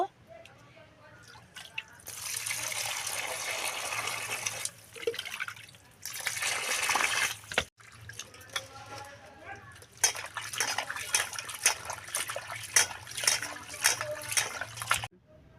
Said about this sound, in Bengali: এখন আমি মাছগুলো ধুয়ে নেব